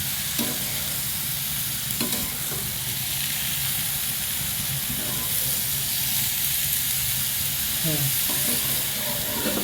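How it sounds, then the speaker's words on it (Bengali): Grated potato bhaji fries steadily in a pan, giving a continuous hiss and sizzle with a few scraping stirs of a spatula spread through it. The sound is close and even, with no talking. "এই যে এখন আলু ভাজি লাড়াচাড়া দেওয়ার পরে ঢাকে দেওয়া হবে"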